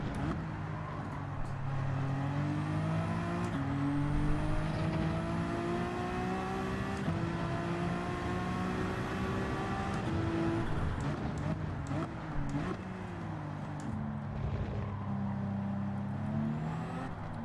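Engine of a Honda NSX race car in Gran Turismo 7 drones steadily throughout, with rising and falling pitch as it revs and shifts gears, loud and continuous at close range.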